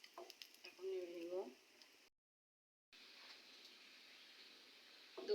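Food frying in a pan while being stirred for pui shak bhaji or semai, a steady close sizzling hiss broken by a short silent gap, with a voice speaking briefly at the start and again at the end.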